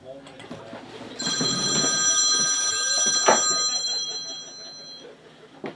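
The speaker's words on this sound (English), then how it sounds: "Phone's ringing, Donnie." Shrill electronic ringing from a telephone goes on for about four seconds at moderate loudness in a room. It plays over soft rustling and low speech.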